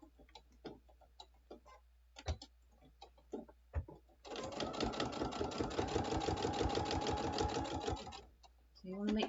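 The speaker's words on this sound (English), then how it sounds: "Now I'm just going to top stitch" A sewing machine top stitches a fabric bottle bag, starting after a few short sparse knocks and handling sounds, then running in a continuous fast rhythmic whir for about four seconds before stopping.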